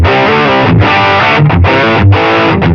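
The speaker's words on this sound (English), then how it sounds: "It will make this a beefier distortion." Thick, saturated electric guitar distortion from stacked gain on an HX Stomp, playing loud repeated chords with short breaks between strums, dense and beefy.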